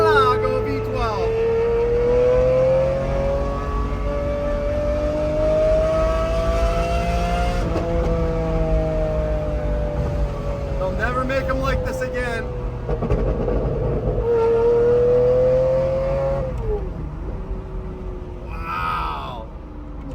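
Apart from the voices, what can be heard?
Lamborghini Murcielago V12 engine revving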